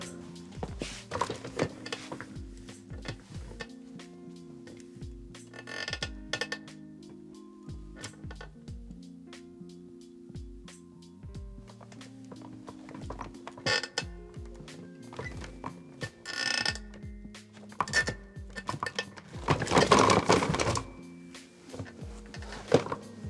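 A wooden chair is moved and creaked for foley work, giving repeated low groaning creaks and knocks at close range. Sharper scraping bursts occur in places, and there is no talking.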